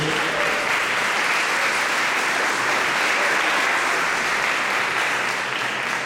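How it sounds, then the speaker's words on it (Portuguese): A congregation at an Aviva Santo André church service gives a long, steady round of applause, dense and even clapping filling the room for about six seconds with no break. "dar uma salva de palmas à palavra de Deus"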